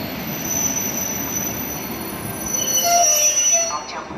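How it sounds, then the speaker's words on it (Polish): A train departing a platform at Warszawa Wschodnia station rumbles along with high metallic wheel squeals rising toward the end, loud and close, with no speech. "Local train to Warsaw Chopin Airport departs from track 6, platform 2."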